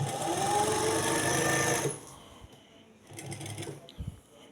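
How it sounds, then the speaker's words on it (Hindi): A sewing machine stitching piping onto fabric for a sleeve design, a fast close whirring run for about two seconds, then quiet handling and a brief second burst of stitching. "इस तरह से हम पाइपिंग को सिलाई लगा कर इसके साथ अटैच करेंगे।"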